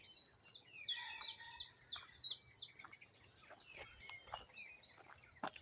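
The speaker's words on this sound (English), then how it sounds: "I'll just enjoy the last few minutes of the birds now." Birds sing outdoors nearby in a series of bright, rapid chirping phrases, fairly loud at first, then thinning into scattered calls over a quiet background.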